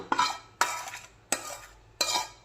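Egg pieces are stirred into pickle masala in a bowl, with four separate scraping, clinking strokes of a utensil against the bowl, evenly spaced and close.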